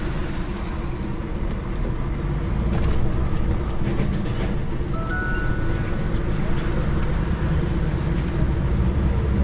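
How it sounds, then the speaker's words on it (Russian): A long train, several freight wagons, rumbles past steadily at close range, heard from inside a truck cab on the road, with a low continuous roar and faint clatter; brief talk from the cab is heard at times. "из трех вагонов поехал целый поезд"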